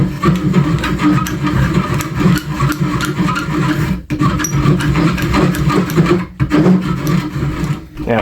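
Steel being filed from inside the bore of a flintlock fowler barrel during jug choking, a loud, close, continuous grinding rasp with brief pauses between strokes.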